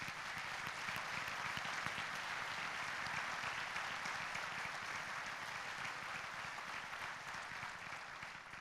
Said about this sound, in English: Please join me in applauding our exceptional police, fire, and all first responders.